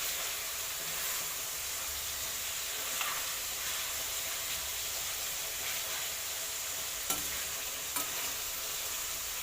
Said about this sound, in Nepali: रातो हुने गरी पनि भुट्नुपर्छ होला, क्रन्ची गरेर बिस्तारै